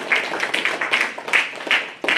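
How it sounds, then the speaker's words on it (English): A school media day audience claps together in a brisk round of applause, a dense patter of hand claps up close that fades briefly before a final surge. "just give yourself a round of applause for Alice making the team"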